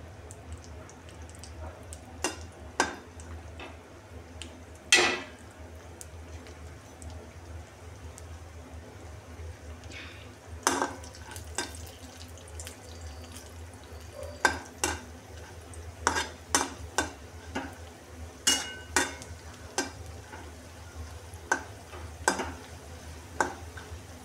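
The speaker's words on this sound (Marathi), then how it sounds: "बघा आता मी काजू टाकलेले आहेत कढईमध्ये आणि ते आता आपण हलवत राहायचं" Cashews fry in hot oil in a wok under a low, steady sizzle, while a spatula stirs them with sharp scraping clicks at irregular moments. No one talks.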